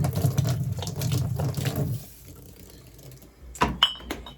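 Champagne being poured out gushes and splashes steadily for about two seconds, then a quieter trickle follows, ending with a couple of louder clattering splashes near the close.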